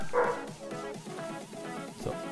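Dog in the Minecraft video game barking and yipping in a quick series of short, moderate-volume calls with small whimpering tones, no talk over it.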